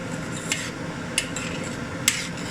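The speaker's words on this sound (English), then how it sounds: "So I'm just gonna stir it really well." A whisk stirs a boiling vegan banana dessert mixture in a pot, giving a steady bubbling, scraping churn with three sharp clinks of the whisk against the pan at regular intervals.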